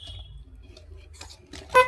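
A vehicle horn gives one short, sharp honk at the end, after a stretch of quiet low rumble and faint background noise.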